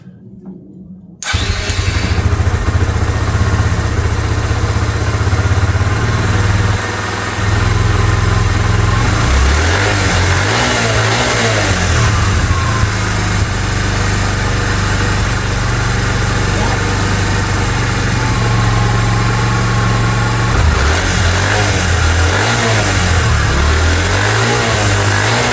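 Suzuki Marauder motorcycle left abandoned in a barn for six years cranks and catches after a short silence, then runs loudly and steadily with a deep idle, occasional throttle blips and a brief dip partway through.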